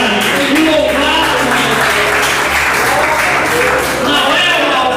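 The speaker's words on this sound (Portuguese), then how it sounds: "Pode bater palmas e glorificar e louvar." Congregation at a Bible study clapping hands in praise, loud sustained applause with voices mixed in beneath it, continuing at a steady level throughout.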